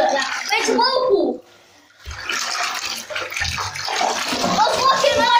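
A bath bomb swirls in a bathtub full of water, with churning, splashing water noise throughout while children talk and laugh loudly over it.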